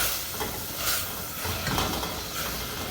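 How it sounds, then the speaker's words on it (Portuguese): Food stirred in a sticky pan after a splash of water, giving a steady sizzle and hiss with faint scraping and rustling throughout. "dou uma mexida pra desgrudar lá no fundo"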